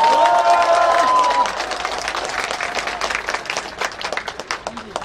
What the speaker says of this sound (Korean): 이분들 위해서 박수 한번 좀 보내주세요.